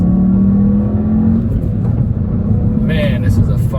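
A 2015 Volkswagen Jetta GLI SEL with a six-speed manual revs up as it accelerates, its engine drone rising steadily. It stays loud and continuous throughout and is heard from inside the car.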